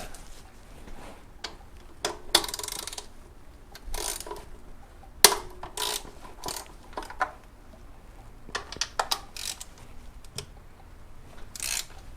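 A ratchet tightens engine bolts on a 2010-2015 Toyota Prius, giving scattered bursts of quick metallic clicking and occasional sharp clanks, close and moderately loud over a quiet workshop background.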